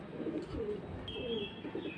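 A caged Pakistani Kamakar pigeon gives faint, low cooing, a few soft rolling coos heard quietly against a hushed indoor background.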